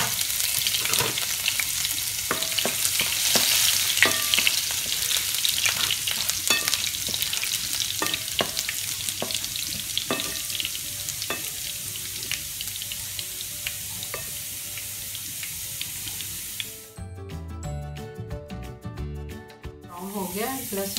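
Finely chopped garlic fries in hot oil in a home kitchen pan, a steady sizzle running throughout with frequent stirring clinks and scrapes, close and fairly loud, ending in a brief burst of clattering.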